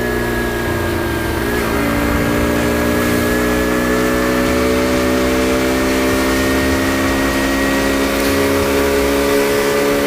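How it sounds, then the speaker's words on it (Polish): A Romet Pony 50 moped engine drones continuously while being ridden, a loud, steady buzz with slowly shifting pitch as the small engine holds and changes speed, with no talk over it. "Dawno nie jechałem motorowerem, a tym bardziej czymś o tak małych gabarytach."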